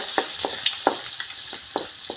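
Garlic frying in hot oil for a Bicolano-style squid dish, a steady bright sizzle broken by short crackling pops every fraction of a second, close and alone.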